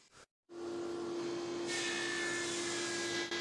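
Power sander working reclaimed pine boards for a TV cabinet, starting after a brief pause and then running as a loud, continuous whining drone with a steady hum and a hissing abrasive rasp that grows brighter partway through.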